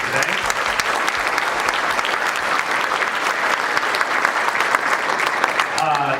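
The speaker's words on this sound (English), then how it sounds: "please join me in one more round of applause for all of our impressive award winners today." Sustained audience applause at an economic symposium honoring award winners, a dense, steady wash of many hands clapping at close range with no break.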